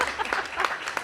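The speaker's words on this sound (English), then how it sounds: "How about a round of applause for our translator today" An audience at a roundtable on cultural malls claps for their translator, a short burst of scattered, moderately loud hand claps with a faint voice mixed in underneath.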